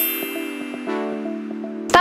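A notification bell sound effect rings with a sustained metallic tone and several soft repeated pulses, ending in a sharp bright strike.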